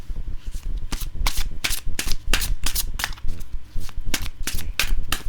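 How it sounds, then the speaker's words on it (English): A 44-card oracle deck is shuffled repeatedly up close, crisp riffling bursts coming in quick rhythmic bunches with no voices. "I'm just going to give it a shuffle test."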